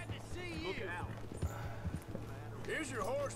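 Horse hooves clip-clop at a steady walking pace in the Red Dead Redemption 2 video game, quiet under music-like tones and game ambience, with voices talking over parts of it.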